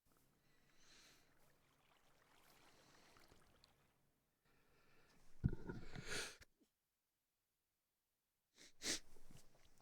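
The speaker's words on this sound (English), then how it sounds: "Oh, now I'm sneezing." A single loud sneeze bursts out after soft sniffing and breathing, followed by a short silence and a second sharp sneeze-like burst.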